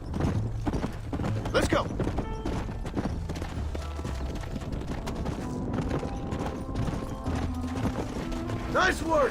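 Hoofbeats of horses galloping in Red Dead Redemption, a steady clip-clop rhythm running under game music and effects, with a voice shouting briefly.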